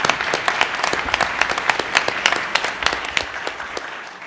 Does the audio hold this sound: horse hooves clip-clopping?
no